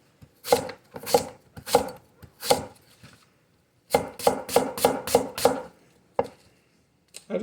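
A knife push-cuts through watermelon on a tall cutting board, giving sharp, crisp strokes in two quick bursts: four evenly spaced cuts, a pause, then a faster run of six, with a couple of stray taps after.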